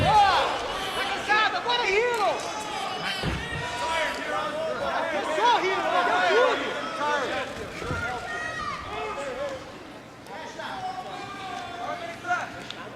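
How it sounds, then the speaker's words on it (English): A crowd at a jiu jitsu match cheers and chatters in a continuous roar lasting several seconds, with shouts rising above it. "You know, you hear the crowd, both for Hidon and André."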